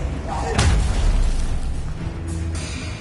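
Confringo blasting spell bursting in Hogwarts Legacy, a sharp booming impact near the start with rumbling decay and another crack later amid game sounds.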